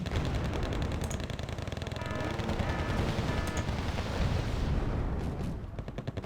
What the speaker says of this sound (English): Grenade launcher there, quickly finishing that infantry off.